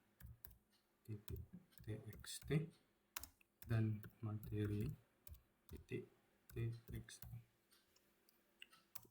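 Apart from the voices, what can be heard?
typing Linux commands on a computer keyboard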